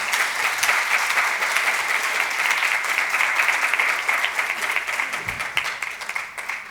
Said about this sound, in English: let's give Dr. Cantor another round of applause